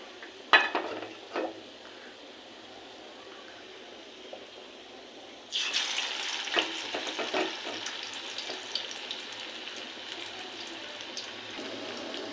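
Snake gourd (chichinga) fritters frying in oil, with a few scrapes at first, then a loud sizzle that starts abruptly and holds steady with crackles until the end, close and with no voices.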